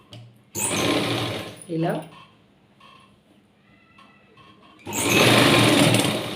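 Sewing machine stitching piping onto fabric, running in short loud bursts at the start and end with a pause between, while a voice speaks briefly.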